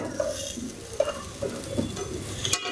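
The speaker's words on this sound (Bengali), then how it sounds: "আমি 10 মিনিট এভাবে ঘির উপর কষিয়ে নিব। উপর কষিয়ে নিতে হবে।" Pieces of ash gourd (chal kumra) are stir-fried in ghee for morabba, giving a steady soft sizzle with faint scrapes and light clinks of a spoon against the pan.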